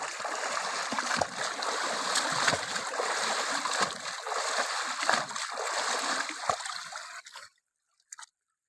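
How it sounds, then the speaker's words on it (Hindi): Water splashes and churns continuously in a pond in the Chambal region, loud and close for several seconds, then it stops suddenly, followed by a couple of faint drips. "उन्हीं तालाबों के स्वच्छ जल में डुबकी भी लगा लेते हैं"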